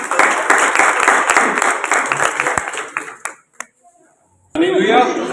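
Loud clapping from a church congregation during a Hindi-language Christian service, a dense burst of hands lasting about three seconds, then a brief pause and a voice over a lingering crowd.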